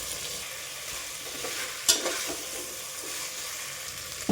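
Toor dal, potatoes and brinjal go into a pan and are stirred, giving a steady sizzling hiss with one sharper scrape partway through and no voices.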